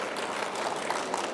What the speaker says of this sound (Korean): 수고해주신 권사님께 큰 박수 부탁드리겠습니다